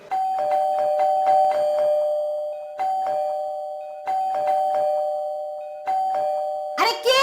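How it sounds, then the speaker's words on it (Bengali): An electric doorbell rings over and over, a run of quick chimes followed by several more spaced presses, loud and close indoors, and a voice breaks in at the very end. "একটু এত কলিং বেল দিতে হয় নাকি? এত বেল দেওয়ার কি আছে?"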